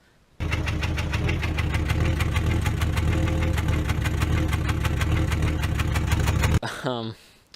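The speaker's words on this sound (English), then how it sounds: "By the time I got the new motor put in, it was about to kick a rod out the block." A 1994 Jeep Cherokee XJ engine runs loud and close with a steady, rough mechanical knocking that suggests it is about to throw a rod, then cuts off abruptly near the end.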